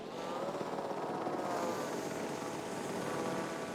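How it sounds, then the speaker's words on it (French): A helicopter in the Jurassic World Evolution 2 dinosaur park game makes a steady, loud whirring engine drone that stays even throughout, with no talking over it. "L'hélico qui s'excite."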